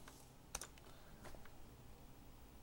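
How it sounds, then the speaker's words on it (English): Fingers typing a web address on a computer keyboard, a short burst of a few quiet, close key clicks over faint background hiss. "Just type in reason101.net,"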